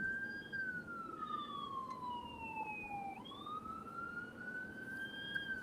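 A single wailing siren slowly sweeps down in pitch and then back up, heard at a moderate distance over a low rumble of traffic.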